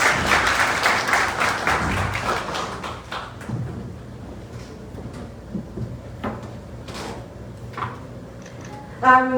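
An audience at a university signing ceremony applauds to welcome a speaker, with a burst of clapping at first that thins into scattered claps, then quiet room noise and a few isolated knocks, ending with a voice starting to speak.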